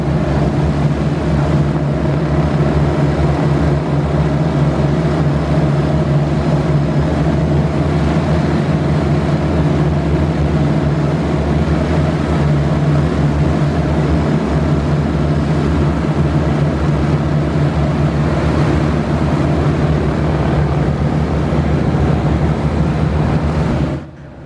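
An Avro Shackleton's number 1 piston engine starts and runs up close, a loud, continuous, dense roar with a steady low drone that holds throughout before cutting off abruptly at the very end.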